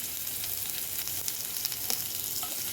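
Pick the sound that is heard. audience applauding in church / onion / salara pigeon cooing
onion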